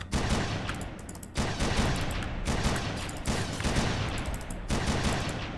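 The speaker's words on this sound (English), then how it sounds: "explosion." Explosions in the video game Red Faction: a loud, continuous roar of blasts and rumbling debris, with fresh bursts breaking in roughly every one to two seconds, no voices.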